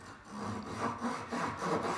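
A hand saw rasps back and forth through a wooden spline glued into a miter joint, with several steady, close strokes in quick succession.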